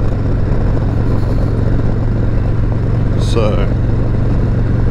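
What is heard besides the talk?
Harley-Davidson motorcycle engine while riding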